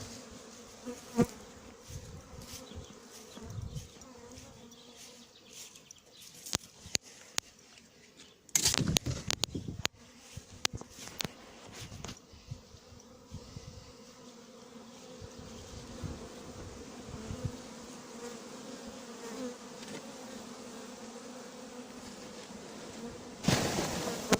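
A dense swarm of honeybees buzzes continuously nearby while being hived on a farm, with intermittent knocks and rustling handling noises as bees are shaken from a bag, including a louder burst near the middle.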